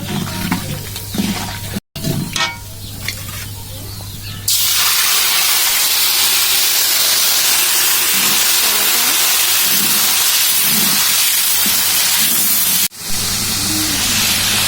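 Whole garam masala spices dropped into hot oil for Bengali aloo dum, giving a loud, steady broadband sizzle that starts abruptly and runs continuously, preceded by a few seconds of clattering and handling.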